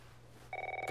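An electronic telephone ring in The Last of Us starts halfway through, a steady two-tone trill, fairly quiet and close over a low background hum, with no one talking.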